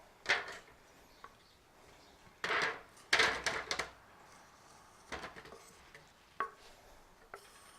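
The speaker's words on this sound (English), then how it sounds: "Let's go ahead and just dump these right in." Chuck roast burnt end pieces are dumped into a metal pan, giving scattered hard knocks and clatters, a few loud clusters spaced across several seconds in an otherwise quiet room.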